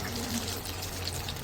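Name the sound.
chicken cutlet being put into hot frying oil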